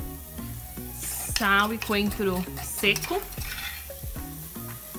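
Onion and garlic sizzling and frying in oil in a pan with stirring scrapes, while a person talks over the cooking.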